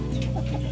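Indio Gigante chickens cluck on a farm, a brief burst of close, steady fowl calls over a low constant hum.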